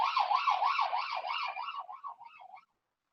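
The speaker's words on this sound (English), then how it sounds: "we've got another siren today." An emergency vehicle siren wails outside in a fast up-and-down rhythm, fairly clear at first, then fades and breaks up before cutting off after under three seconds.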